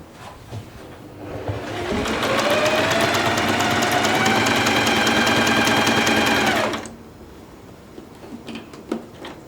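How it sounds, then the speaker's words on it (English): Sewing machine overcasting the raw edges of summer dress fabric, running in one steady, loud whirring burst for about four seconds with a rising motor tone, then stopping, with quiet handling noises before and after. "So now we're ready to start sewing."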